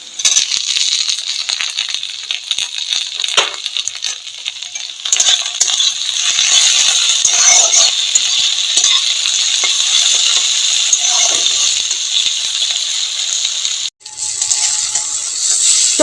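Tomatoes sizzle in a pan over chillies, ginger, garlic and onion fried until lightly reddened, for a begun bharta: a loud, steady frying hiss with faint stirring clatter and a brief break near the end, with no voices.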